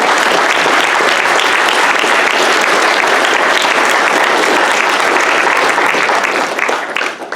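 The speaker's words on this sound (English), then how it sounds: "let's give a round of applause for our panel" Loud, dense applause from an audience fills the room for a panel at a Constitution Day event on Held v. Montana, holding steady before tapering slightly at the end.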